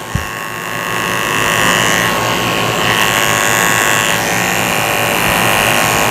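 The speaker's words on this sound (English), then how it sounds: "I'm shaving the base of her tail with the 7-blade" Electric dog clippers fitted with a 7 blade shave the base of a Shih Tzu's tail, a steady close-up buzzing drone that starts with a brief click and runs unbroken.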